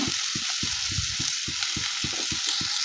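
Wild monsoon greens hit hot oil spiced with turmeric and red chilli powder, giving a loud continuous sizzle broken by rhythmic scraping knocks of stirring.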